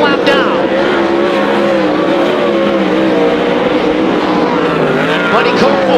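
World of Outlaws sprint cars roar around the dirt oval at Bakersfield, a dense, loud and continuous engine drone with a race commentator talking over it.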